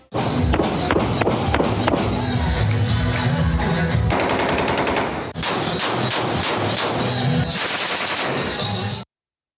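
Celebratory gunfire shot into the air by winning election candidates and their supporters, with loud rapid bursts of repeated shots, near and dense, continuing almost without pause before cutting off abruptly.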